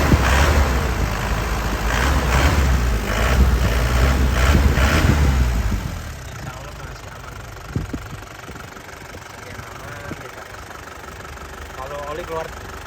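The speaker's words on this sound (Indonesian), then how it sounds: "mesinnya tidak pincang" A 2003 Isuzu Panther diesel engine idles with a loud, knocking clatter for about six seconds, then drops to a quieter, steady idle with scattered mechanical ticks and clicks.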